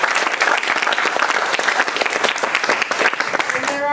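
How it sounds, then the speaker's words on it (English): Startup weekend audience giving volunteer mentors a loud, dense round of applause that continues steadily, with some voices mixed in and a brief tone sounding at the very end. "So let's give them a round of applause."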